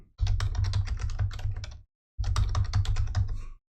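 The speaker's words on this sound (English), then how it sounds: "I'm just gonna type ADA wallet and then password" Rapid keystrokes clatter on a computer keyboard up close as a wallet name and password are entered, in two dense bursts split by a brief pause.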